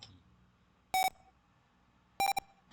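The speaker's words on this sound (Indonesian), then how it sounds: "maka alarm akan menyala" Two short, bright electronic beeps from the alarm of a flood-detection sensor project, spaced a little over a second apart, standing out clearly over a quiet background hum.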